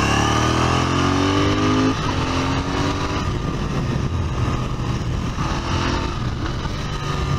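Royal Enfield Interceptor 650 parallel-twin motorcycle engine, loud and close, with a falling rev note as the slipper clutch engages on a downshift, then a rougher, steady engine rumble.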